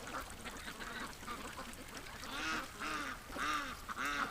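Ducks at a homeless-duck rescue quack in repeated bursts while playing in wash-water runoff from a cleaned pen, starting as a scattered murmur and swelling into several loud, rhythmic close calls toward the end.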